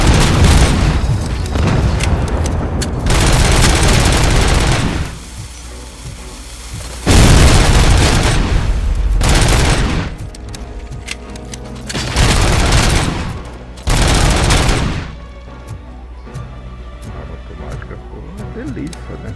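Gunfire in the RoboCop Rogue City video game comes in several loud, dense bursts of booming shots separated by quieter gaps, with someone talking between and over them.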